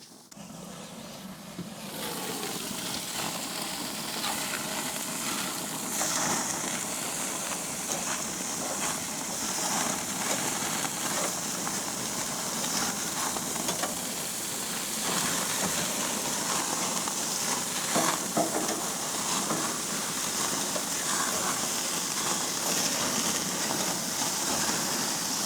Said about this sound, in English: So let's let these burgers cook.